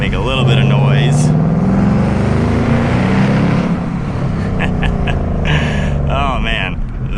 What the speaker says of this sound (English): Hopefully we can hear this Coyote motor make a little bit of noise.